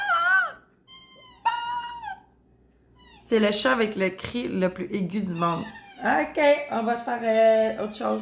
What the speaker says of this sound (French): C'est le chat avec le cri le plus aigu du monde.